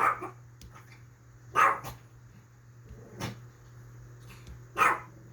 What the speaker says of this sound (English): That was the dog